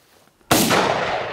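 A single loud Mosin Nagant rifle shot fired outdoors in Utah, a sharp close blast followed by a long ringing decay, no talk.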